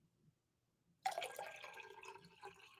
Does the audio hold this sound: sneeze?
no